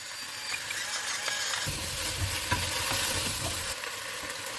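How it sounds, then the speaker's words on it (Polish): Carrots, onion and potatoes fry in a soup pot with a steady close sizzle, while stirring adds occasional scraping and clattering over the continuous hiss. "jak podsmażam tą marchew i cebulkę, wrzucam ziemniaki. I też je lekko podsmażam."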